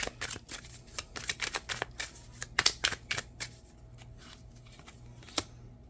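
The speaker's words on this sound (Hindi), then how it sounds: "देखिए कितना शफल करने पे भी आया है।" Tarot cards being shuffled by hand in a rapid, irregular burst of crisp riffling snaps and flutters, close and fairly quiet, easing into sparser taps near the end.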